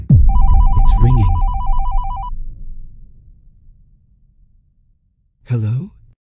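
A telephone in the game Bad Summer rings loudly with a rapid warbling trill for about two seconds, over a low rumbling ambience, with voice sounds breaking in during and after the ring.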